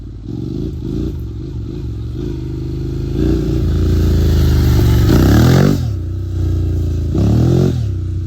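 A Honda NC750X motorcycle engine with an aftermarket exhaust runs loudly up close with a deep exhaust note, revving up and dropping back several times.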